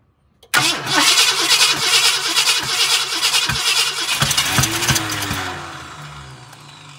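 A 1966 Ford Galaxie 7-litre V8 cranks and catches, roaring loudly and unevenly with repeated pops back through the carburetor, then revs die away and the engine shuts off, with no speech over it.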